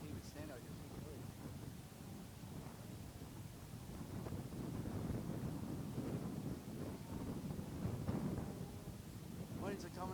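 Wind gusting outdoors on a chilly day, a steady rushing roar with buffeting against the microphone that swells through the middle, with a voice talking faintly beneath it.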